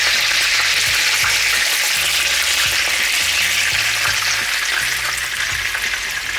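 Food browning in a frying pan gives a loud, bright hiss of hot fat, steady and close throughout, with faint low knocks underneath and no voices.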